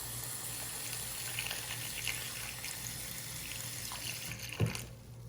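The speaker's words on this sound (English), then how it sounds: "And I'm gonna rinse it." Makeup brush rinsed under a running tap at a sink, a steady soft stream of water flowing throughout, fairly quiet and close, with a brief splash near the end.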